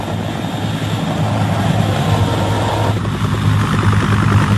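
Helicopter during the fall of Saigon in April 1975, a loud steady engine and rotor roar that continues without a break throughout.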